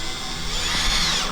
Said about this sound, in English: what I'm going to attempt to do is drill into the board, and then with deck screws,